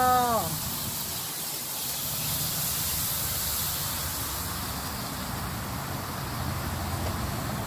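Steady broadband sizzling hiss runs throughout, loud and continuous, from steak searing on a hot grill, with a brief voice-like tone at the very start.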